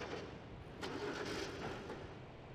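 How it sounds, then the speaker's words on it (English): A video game car engine cranks and tries to start in an old barn in the woods, a faint churning turnover rising mid-clip and sputtering on without catching, with no voices over it. "Did you just hear a car trying to start?"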